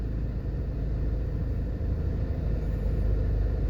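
Afternoon road traffic in the business district of New Kingston, Jamaica, a steady low rumble of car engines passing and idling, constant and moderately loud with no voices.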